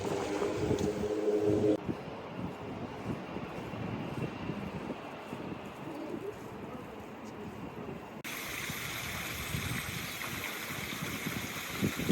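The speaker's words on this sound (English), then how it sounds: "Oh, there's wind." Wind blows outdoors on a London street, a continuous broad rushing roar buffeting the microphone with a low rumble, its tone shifting partway through, with no clear talk.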